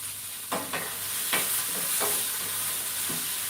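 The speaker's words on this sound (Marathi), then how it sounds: "मंद आचेवरतीच आपल्याला हा मसाला भाजून घ्यायचा आहे" Masala for paneer masala roasting over low heat in a pan, with a steady sizzle and several distinct scraping stirs of a spoon spaced about a second apart, close and fairly loud, no talking.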